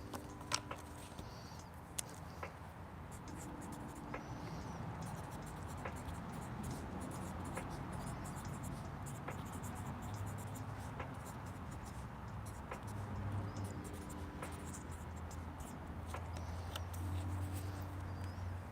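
A pen scratches steadily across paper while notes are written down, quiet and close, with faint background noise throughout.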